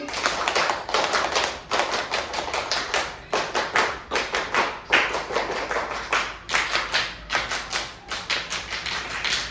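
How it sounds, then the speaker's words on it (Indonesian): A group of schoolchildren performs the scout rhythmic clapping routine in a classroom, three patterned rounds of sharp, quick claps in bursts separated by brief pauses, close and fairly loud. "Tepuk pramuka 3 kali"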